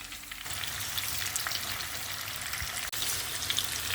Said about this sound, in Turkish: patlıcanları kızartıyoruz.